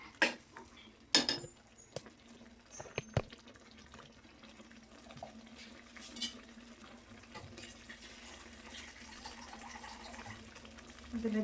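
Water poured into a pan of matar paneer gravy with raw field beans, with clinks of a utensil against cookware, short splashes and a steady low kitchen hum, close and alone with no talk.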